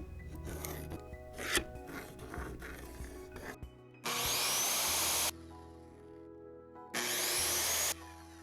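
Power tool cutting a piece of lumber to length for a cutting board, with two loud, sustained bursts of high whining noise after a stretch of quieter scraping and handling sounds.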